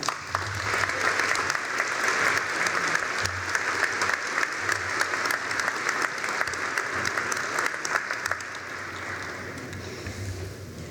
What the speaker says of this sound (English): Graduates, please join me in applauding for your faculty and staff and for your friends and